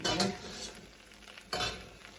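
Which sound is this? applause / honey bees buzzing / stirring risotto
stirring risotto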